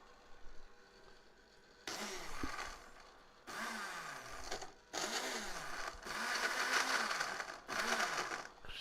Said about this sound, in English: Let's throw it in the blender.